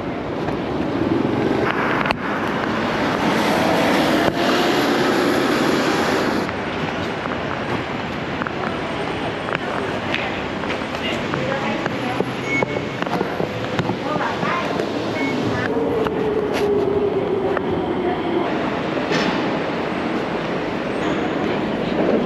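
Singapore metro train near Tanjong Pagar, heard as a loud rumbling rush with a high whine and rattling, fading partway through and returning, along with wind noise and brief background voices.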